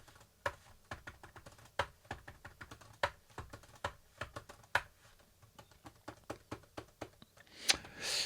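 Shortcut keys tapped on a computer keyboard, a quiet, close run of distinct clicks in an uneven rhythm, with no talk.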